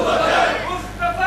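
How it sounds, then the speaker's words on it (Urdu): A crowd at a religious gathering shouts a slogan together in a short, loud, unified cry. "یہاں یہ نعرہ ججتا تھا نا مصطفیٰ کا ہم سفر"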